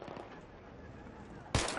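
Gunfire from the video game Battlefield 3: a single loud shot cracks at the end after a low rumble of game noise, with faint distant bursts beneath.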